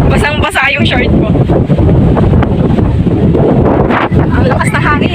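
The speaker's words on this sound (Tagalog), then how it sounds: "Ang lakas ng hangin." Strong wind roars steadily across the microphone, loud and buffeting throughout, with a few voices briefly audible beneath the gusts.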